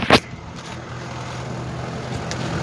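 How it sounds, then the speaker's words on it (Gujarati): A tractor engine running as it drives along a road after a punctured tyre was changed, a low steady rumble held throughout, opening with a brief sharp knock. "હવે આપણે ત્યાં ટ્રેક્ટરમાં જઈએ ચલાવવા"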